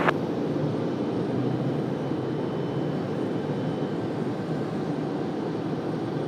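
A Frontier jet airliner lands at Raleigh-Durham airport, its engines producing a continuous, broad, low rumbling roar that holds steady throughout at moderate distance.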